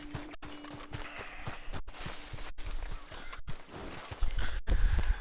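Video-game horse hooves clop at a walking pace in an even, repeated rhythm, close and moderately loud, with a few brief gaps and heavier thuds near the end.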